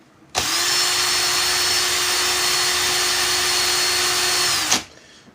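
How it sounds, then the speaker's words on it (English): A power drill running in reverse, twisting wire for a vape coil build, whirs steadily at constant speed for about four seconds, loud and close, then stops abruptly. "Put my drill in reverse."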